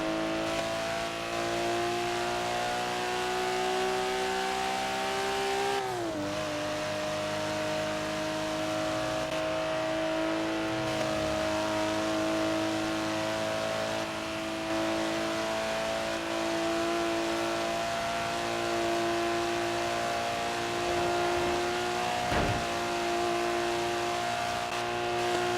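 An older JDM car engine in Forza Horizon 3 drones steadily at high revs, holding a loud sustained tone with a brief dip and shift partway through and no talking.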